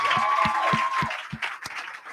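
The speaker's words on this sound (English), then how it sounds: "give him a big round of applause." A round of applause from the audience at a national youth pitch competition as a team member is called up to the stage; a sparse, uneven patter of clapping, with a few distinct claps over a high tone.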